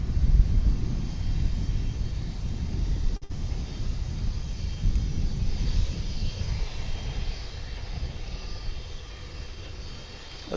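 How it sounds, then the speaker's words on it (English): Airplane arriving at DFW International Airport on a hot 100-degree day, a medical emergency flight: a steady, loud, broadband jet roar that holds throughout with a brief dip near the three-second mark, no talk. "We are awaiting the arrival of what was described to us as a medical emergency flight."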